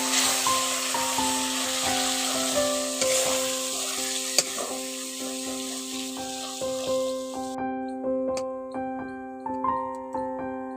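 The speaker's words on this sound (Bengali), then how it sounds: "এই উপকরণগুলো দিয়ে একটু মশলাটাকে ভালো করে কষিয়ে নিচ্ছি" Spice paste for chicken curry with whole garlic cloves and red chilli powder frying in a pan, a steady loud sizzle with occasional stirring scrapes, while soft instrumental music plays throughout.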